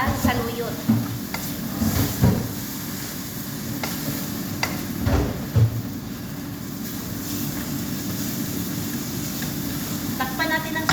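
A spoon stirs Chinese rice with saluyot greens and shrimp in a pan: continuous scraping and shuffling over a low sizzle, with a few louder clunks, close by and steady.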